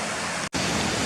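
Waterfalls pour down at Swinner Gill beside the mine ruins, a loud, continuous broadband rush with one momentary dropout.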